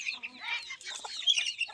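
A free-range rooster gives a short burst of clucking and throaty calls, fairly close and fairly quiet, with no talk.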